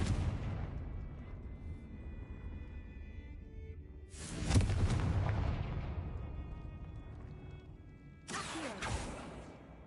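A Confringo fire spell blasts in the Hogwarts Legacy video game, loud booming explosions bursting twice with rumbling decay after an initial fading rumble, no talk.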